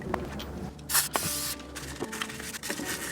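Cleaner sprayed onto a Jeep Wrangler JL brake caliper during a brake and rotor job, heard as a few short hissing spray bursts close by, with no talking.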